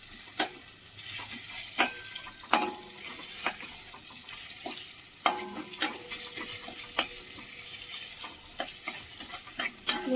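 Chopped onions fry in a pan with a low, steady sizzle. Sharp, regular clicks and scrapes from a utensil stirring or tapping the pan sit on top of it, and no one talks.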